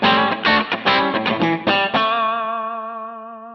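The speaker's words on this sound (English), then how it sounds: "So this is the 4x10 basic one." Electric guitar played through a Harley Benton DNAfx GiT Pro with a 4x10 cabinet simulation, giving a quick run of plucked notes, then a final chord left to ring and fade.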